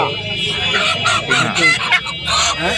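Native village chickens at a busy village market, with overlapping clucks and squawks close by and a rooster-like call, continuous over background murmur.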